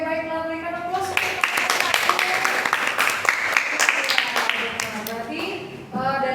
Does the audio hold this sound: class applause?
yes